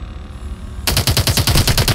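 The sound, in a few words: weapon fire in video game Call of Duty: Advanced Warfare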